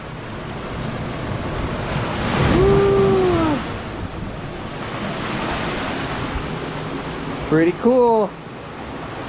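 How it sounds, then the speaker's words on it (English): Waves surge and wash through a sea cave at high tide near Dana Point, a steady broad roar of surf echoing in the enclosed rock, with brief spoken voices and a short burst of chatter near the end. "it's high tide right now. And the waves are coming up and are gonna trap us here."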